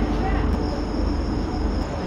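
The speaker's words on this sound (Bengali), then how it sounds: "ট্রেন ঢুকলো আমাদের বেলদা।" The Sri Jagannath Express pulls into Belda station with a steady rumbling roll and a high whine above it, a continuous close-by noise of the moving train.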